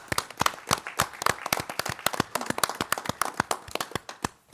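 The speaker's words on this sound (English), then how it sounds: "I really think it's deserving to have a round of applause" A small group applauds the teachers and administration at a Board of Education meeting, with sharp, distinct hand claps in an uneven steady patter, fairly close and moderately quiet, with no talking.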